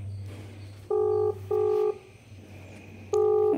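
A phone being dialed, with three short, loud keypad tones beeping in uneven rhythm over a low hum of background noise, no talking.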